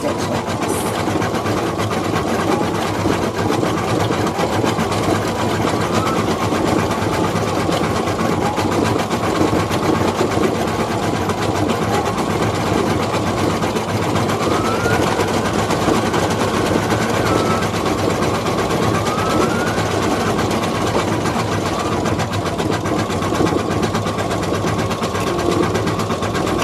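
Embroidery machine stitching a felt giraffe mask, a constant rapid mechanical whir and needle chatter running unbroken at steady volume, close by, with no voices over it.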